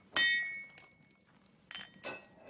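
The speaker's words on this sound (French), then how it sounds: "quelques bons coups de marteau pour rectifier la pièce" A hammer strikes a metal piece to straighten it: about four sharp, ringing clangs spaced irregularly, close and loud, each leaving a short metallic ring.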